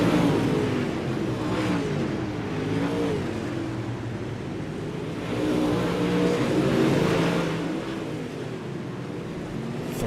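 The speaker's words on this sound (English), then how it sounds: "Dylan DeWert, fastest car on the track," UMP modified race cars roar around a dirt oval at a Monday night series event, engines droning loud and steady with rising and falling revs as cars pass close by, with no voices.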